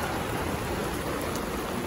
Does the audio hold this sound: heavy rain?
yes